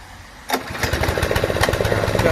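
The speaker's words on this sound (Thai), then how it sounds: "เครื่องยนต์ Honda สตาร์ทติดง่าย" A Honda engine on a multi-purpose tractor fires up after a brief quiet moment, then settles into a close, loud, rapid putter that runs steadily to the end.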